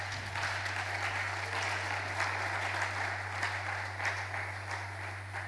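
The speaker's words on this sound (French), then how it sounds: "Est-ce que nous pouvons applaudir la parole du Seigneur?" Steady applause from a church congregation during a worship service, a dense continuous patter of many hands lasting several seconds over a constant low electrical hum.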